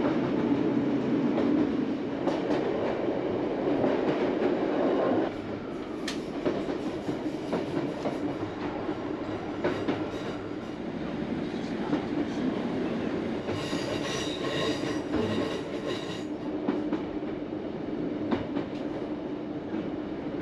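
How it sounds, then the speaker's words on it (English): A train running along the Looe Valley branch line in Cornwall, passing through St Keyne without stopping: steady rumble and clatter of wheels on rails throughout, with brief squealing, heard close from on board. "At St Keynes, somebody vainly tries to stop the train, but we sail on through."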